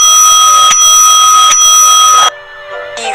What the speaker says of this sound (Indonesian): bel masuk pun berbunyi